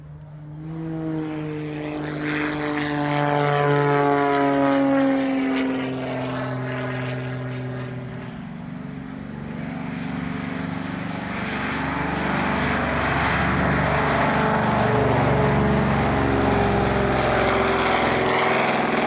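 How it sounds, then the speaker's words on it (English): A propeller warbird roars past low and close beneath a motorbike jump at an airshow, its engine drone rising, peaking, then shifting pitch as it passes, followed by another loud engine sweep. "a low fly past underneath a motorbike jump"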